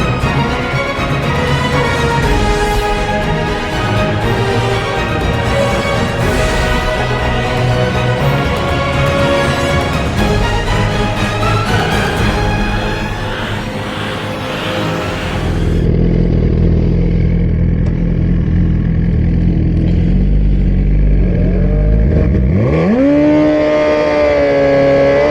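Suzuki GSX-R 1000 motorcycle fitted with a Brock's performance exhaust accelerating hard, a loud, rising multi-gear engine howl through shifts, then a lower rumble before revving up again.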